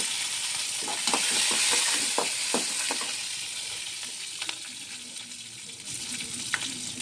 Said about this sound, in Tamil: கடலைப்பருப்பு, இப்போ கடுகு நல்லா பொரிஞ்சிருச்சு